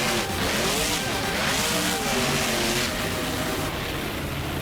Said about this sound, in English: Monster Mutt Zombie going up over the crush cars.